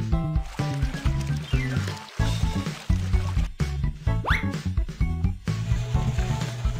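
Water pours into a concrete mixer hopper in a kids' building game, a cartoonish burbling and sloshing in repeated short bursts with bubbly rising tones, set over light background music.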